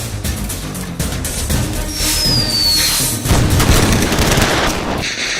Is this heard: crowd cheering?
no